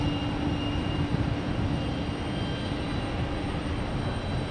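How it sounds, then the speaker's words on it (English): A Lufthansa airliner passes overhead on its landing approach at Raleigh-Durham airport, a steady broad engine roar that stays loud and even throughout. "Kroby says Lufthansa flew over their heads, landing shortly"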